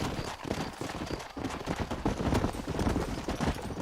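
Rapid galloping horse hoofbeats pound continuously, close and loud, mixed with dense rumbling game noise in Red Dead Redemption.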